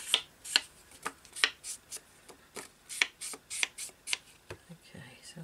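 Scissors trimming a paper photo for a collage, a run of crisp, close snips at an even rhythm, fairly quiet and alone.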